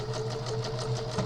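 A sewing machine stitches a zigzag line to quilt fabric for a clutch, a fast, steady, close mechanical chatter with a rhythmic needle pulse and no voices.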